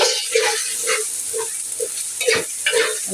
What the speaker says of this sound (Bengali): আদা রসুনটা ভালো করে কষিয়ে নিব